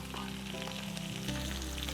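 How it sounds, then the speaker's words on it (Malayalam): Chopped tomatoes for Kerala-style anchovy thoran fry and get stirred in a pan, a dense, continuous close sizzle with soft stirring movement underneath, no voices. "തക്കാളി ഇട്ടിട്ട് നമുക്ക് ഇളക്കണം"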